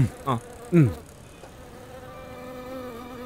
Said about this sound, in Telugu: ఆ ఈగ వచ్చి వాలినప్పుడు మన ముగ్గురు ఒకే టైంలో దాని చెవి దగ్గరికి వెళ్ళి ఆ నరవాలి